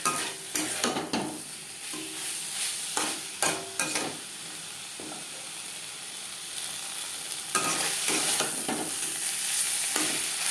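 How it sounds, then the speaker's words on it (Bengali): Kakrol (spiny gourd) and potato stirred with spices in a pan, with repeated scraping spatula strokes in bursts over a steady sizzle of oil, close and fairly loud, no voices. "মশলার সাথে কাঁকড়ুল আলু দু তিন মিনিট নাড়াচাড়া করে নেবে"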